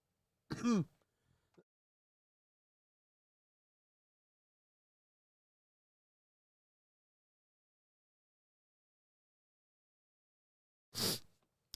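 A single throat-clearing cough near the start, then a long silence before another short burst at the very end.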